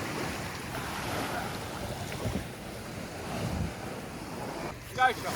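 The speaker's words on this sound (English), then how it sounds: "you can hear the sound of the sea lapping the shore" Sea lapping a sandy shore at an anchorage at night, a steady soft wash of surf with wind noise over the microphone and a brief louder swell near the end, heard alone without talk.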